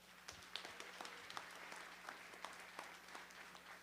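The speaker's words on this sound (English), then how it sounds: "Give yourselves a round of applause." Graduation crowd at Chandler Park High School clapping, a fairly quiet, distant patter of hands with a few sharper individual claps standing out above a low steady hum.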